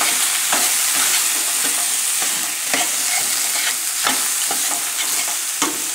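Pork pieces sizzle and sauté in a pot for a shoulder stew, with a steady hiss broken by repeated scraping stir strokes, close and loud, no voices.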